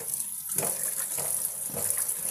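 Tap water runs steadily over food being washed, a faint, even gush with small splashes and shifts as the items are moved under the stream.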